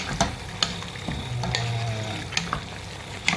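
Food in a pot is stirred with a utensil over a steady sizzle, the spoon scraping and clacking against the metal in irregular close knocks with no voices.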